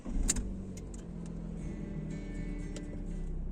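A 2011 Fiat Punto Evo's engine hums low and steady inside the cabin, with a brief click near the start as the car begins to move.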